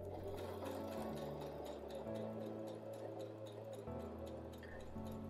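A sewing machine stitches slippery velvet for an old rocking chair restoration, a close, steady rapid whirring and ticking that shifts pitch as the speed changes, with no talk.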